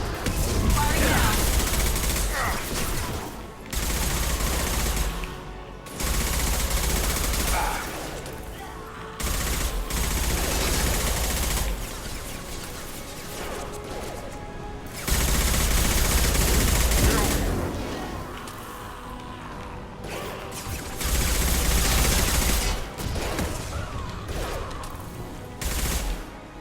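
Mass Effect 2 combat with repeated bursts of rapid automatic gunfire in several loud volleys separated by short pauses, and game character voices heard between the shots.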